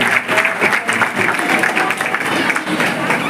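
Audience applause at a community prize ceremony, dense loud clapping from a crowd sustained throughout a few seconds.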